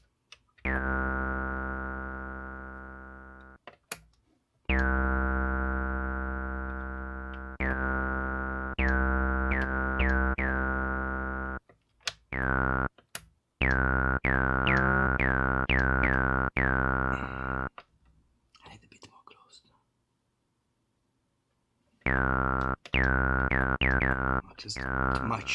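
A buzzy, bass-heavy square-wave synth tone from a Behringer TD-3 or Roland TB-03 holding long sustained notes, with short gaps and a brief near-silent stretch before the tone returns.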